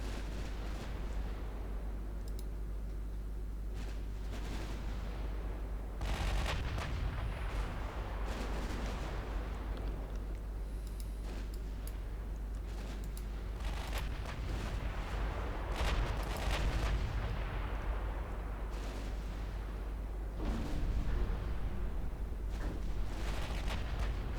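Distant, muffled booms of 10-inch naval guns firing in Ultimate Admiral Dreadnoughts roll through a low, steady rumble, several faint thuds spread across a long stretch.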